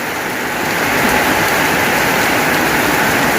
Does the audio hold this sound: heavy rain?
yes